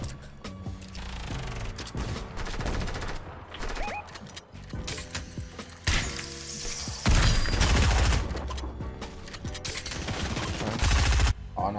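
Bursts of rapid automatic gunfire from a video game firefight, loud sprays with sharp clatter and short pauses, mixed with mechanical reload clicks and other weapon sounds throughout.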